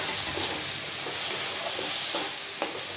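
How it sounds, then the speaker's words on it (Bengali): Prawns go into a pan of well-fried masala for chingri malaikari, setting off a steady close sizzle and frying hiss with light stirring scrapes, no voices. "আমি চিংড়ি মাছগুলো দিয়ে দেবো"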